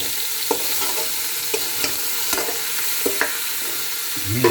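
Goat meat frying in a pot for a qorma as a spoon stirs it, a steady sizzle punctuated by occasional scraping knocks against the metal, close and clear.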